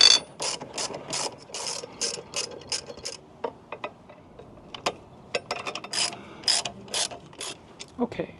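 A hand tool ratchets and clicks in quick repeated bursts, close and clear, as aluminum saddlebag guards are loosely mounted onto a 2025 Harley-Davidson Low Rider ST motorcycle, with short pauses between runs of clicks.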